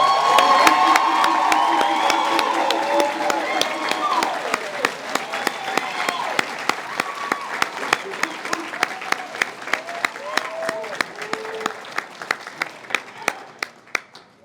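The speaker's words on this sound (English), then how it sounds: "just give one more round of applause for our graduates this evening" A graduation ceremony crowd applauds loudly with cheers and whoops, then the clapping thins out to scattered sharp claps before fading.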